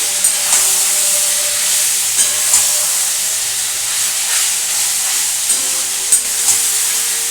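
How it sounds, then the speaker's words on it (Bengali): Mutton curry stirred in a pan, giving a loud continuous steamy hiss and sizzle with occasional soft scraping knocks of the spoon, close up and without talk. "এবার এর সাথে খুব ভালো করে এখন আমি নাড়াচাড়া করবো"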